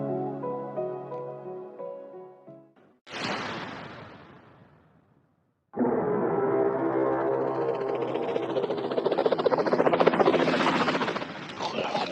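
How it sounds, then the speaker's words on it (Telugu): A helicopter arriving during a zombie short film: a sharp burst, a brief lull, then a loud, steady roar of rotor and engine noise that holds close and strong to the end. "హెలికాప్టర్ వచ్చిందిరా."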